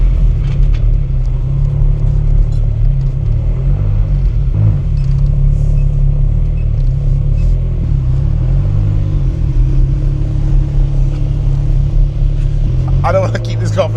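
A Ferrari 360 Modena's engine rumbles steadily and loudly from inside the car while driving, a constant low drone with slight shifts in pitch and someone talking over it.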